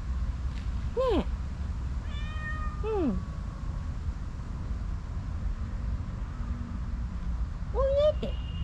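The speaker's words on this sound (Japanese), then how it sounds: "ミャオって声聞こえるね。" A stray kitten meows several times, loud and close, with a softer voice speaking in between over a low background hum.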